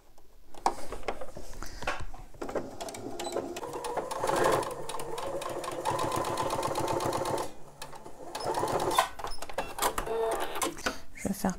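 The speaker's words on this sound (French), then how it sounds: "Donc, pour les sécuriser, je vais juste faire une petite couture" A sewing machine sews a short securing seam on a pouch, running in close, rapid rattling bursts with a brief pause in between, while someone speaks French over it.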